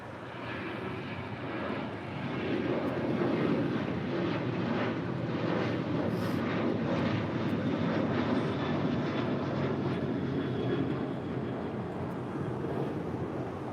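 A fixed-wing airliner landing on runway 24 right at LAX gives a steady, loud jet engine roar with wind rush, sustained throughout without pause.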